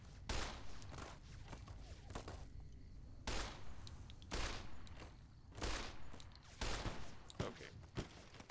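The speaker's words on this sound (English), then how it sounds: "Are they shooting at me?" Distant rifle shots and scattered bursts of gunfire in Fallout New Vegas, coming in irregular volleys every second or so, fairly quiet and mixed with ambient game sound.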